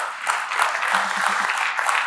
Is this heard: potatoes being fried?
no